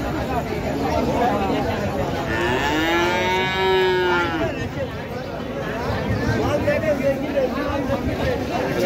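A native cow at Baneshwar livestock market, Bangladesh, gives a long, loud moo close by, with other cattle lowing and a crowd chattering steadily in the background.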